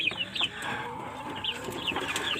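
Young Bangkok chickens in a coop, a chick being checked after treatment for watery eyes and a rattling snore, give repeated high peeping calls over a steady farmyard background, with no one talking.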